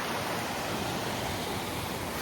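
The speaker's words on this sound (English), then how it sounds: "this stream," A mountain stream in winter on the Kinsman Mountains section of the Appalachian Trail rushes in a steady, dense broadband wash, close and continuous with no voices.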